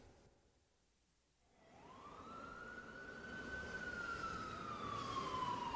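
A fire engine siren rises out of quiet and holds a long, steady wail that grows gradually louder as the vehicle approaches, with traffic rumble underneath.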